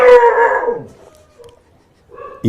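A dog lets out a loud, wavering howl that slides downward and fades, followed by quiet and a brief rustle at the end.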